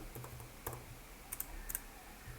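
A name is typed on a computer keyboard, with quick, light key clicks in small irregular clusters, close and faint over a low background hum.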